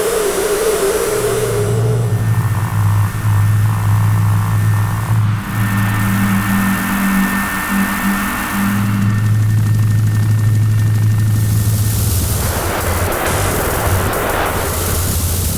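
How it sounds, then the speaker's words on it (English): A Formanta ODS drum machine run at audio rate makes a loud, continuous droning texture with steady low tones that shift in pitch, layered with a hissy, unstable upper wash throughout. "I ran that drum machine at audio rate, which creates stunning textures"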